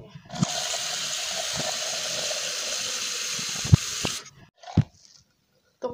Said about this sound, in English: The water's reverse.